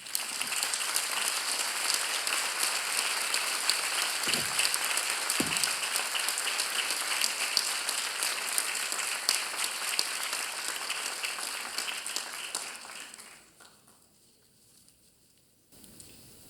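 Warm, sustained applause from a conference audience at a closing panel, steady dense clapping for about thirteen seconds before fading out, followed by near silence.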